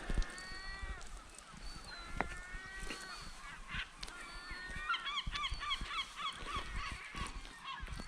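Seabirds crowd the Isle of May bird island, with geese honking repeatedly and ducklike calls overlapping in a busy, close chorus and a constant murmur of colony noise behind.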